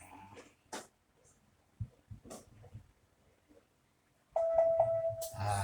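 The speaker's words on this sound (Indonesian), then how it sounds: "Dia bunyi tung tung tung." A BARDI smart indoor PTZ IP camera gives its setup prompt near the end, a steady electronic tone that comes in after scattered handling noises and quiet gaps.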